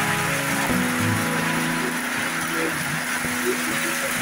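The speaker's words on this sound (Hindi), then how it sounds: "बहुत खतरनाक बारिश लग रही है।" Heavy rain pours down in hilly Uttarakhand, a dense, loud, constant hiss with a faint engine hum beneath it.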